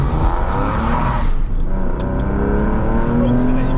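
A Porsche 996 accelerates hard away from a toll booth on a French road, its engine note rising in loud, close, revving pulls, with people talking over the roar.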